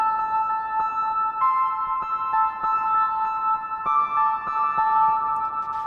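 Soft digital synth piano notes from SynthMaster One play a slow, gentle melody with sustained, bell-like chords ringing out clearly, no voices present.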